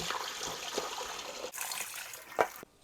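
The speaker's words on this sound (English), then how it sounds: "I'm going to drain them, drain them, rinse them several times" Water runs and trickles through a colander of sliced cucumbers being rinsed and drained, a steady splashing wash with a brief louder splatter near the end.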